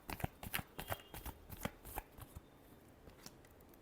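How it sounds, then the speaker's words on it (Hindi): Tarot cards being shuffled, a run of crisp riffling bursts close up for about two seconds, then tapering into a few sparse, softer flicks with no talking. "Last shuffle."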